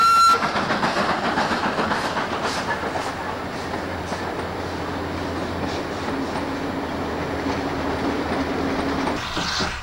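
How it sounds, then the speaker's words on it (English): Preserved locomotive 1567 hauls a special train across the grassy Pampas plains from Luján to Suipacha, a loud steady rumble of rolling wheels and carriages with rhythmic clickety-clack and no speech. "1567 hauls our special train from Luján across the grassy plains of the Pampas to Suipacha."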